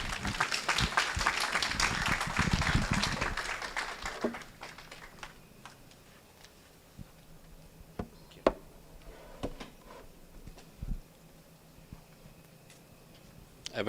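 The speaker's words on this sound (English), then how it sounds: "With a round of applause, ladies and gentlemen, let's welcome" An audience at an annual general meeting applauds to welcome a speaker with a dense burst of clapping for about four seconds, then a few scattered claps and light clicks as the room settles.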